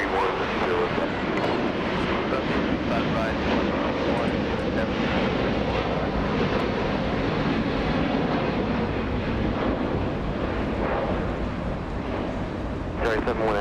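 Qatar Airways Airbus A350-1000 jet on its takeoff roll at LAX, a loud, continuous broadband engine roar filling the clip, with muffled radio talk underneath.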